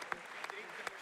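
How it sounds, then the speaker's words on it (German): Brief smattering of claps from a church evening audience, a few sharp isolated hand claps over a low murmur of background noise, applause for a speaker's father. "Applaus für meinen Vater"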